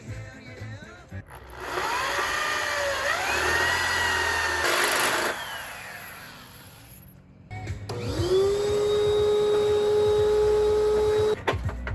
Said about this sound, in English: The drill bit that I'm going to be using is a 3/8, and that fits this hole pretty perfectly.